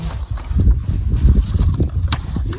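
Steady low rumbling wind buffeting the microphone outdoors in a desert garden, continuous and fairly loud throughout, with gusty swells.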